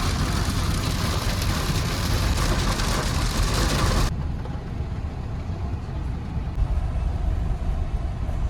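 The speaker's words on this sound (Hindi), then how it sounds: "रास्ते में बट बारिश काफ़ी तेज़ शुरू हो गई है" Heavy rain drums on a moving car on the road near Amritsar, a dense broadband wash over low road and engine rumble that drops to a duller, muffled hiss partway through.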